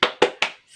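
Three sharp claps in quick, even rhythm from a class doing a tepuk semangat spirit chant, loud and close, followed by a faint trailing voice.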